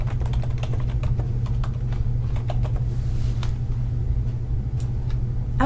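Steady clicking of computer keys being typed in quick bursts, over a constant low hum in the background.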